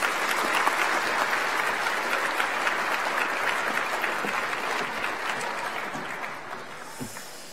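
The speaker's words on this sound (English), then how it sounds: "Can we please have a big round of applause for our finalists?" An audience at an education awards ceremony applauds the finalists, with dense, sustained clapping that fills the room and slowly fades slightly toward the end.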